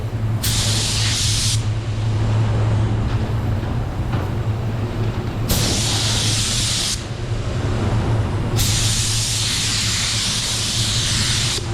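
A spray gun spraying clearcoat hisses in three long bursts of steady broadband spray, with a low steady hum of a compressor running underneath throughout.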